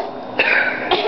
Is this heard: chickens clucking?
no